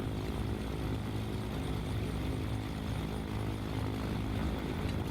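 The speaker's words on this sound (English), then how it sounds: "It's a little loud with the engines running" Twin piston engines of a Chancellor 414 running in Microsoft Flight Simulator 2020, a steady, loud broadband drone with low propeller throb that holds unchanged throughout, no voices.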